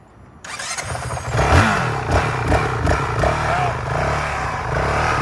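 A Honda CRF450RL fat-tire motorcycle, running stock, fires up and revs in a parking lot. The engine clatters close and loud, then settles into a steady running drone.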